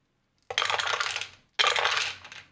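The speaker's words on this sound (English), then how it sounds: "Now, does it accept wooden dice?" Wooden dice tumble down a dice tower in two quick bursts, each a rapid clatter of light wooden knocks and rattles that fades before the next roll lands, close and fairly quiet in an otherwise silent room.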